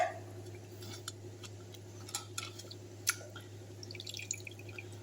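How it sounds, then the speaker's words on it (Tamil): Small irregular drips of banana stem juice tap faintly through a strainer over a steady low hum, with a few sharper ticks scattered through the quiet. "இப்போ நல்லா வடிகட்டிடலாம்."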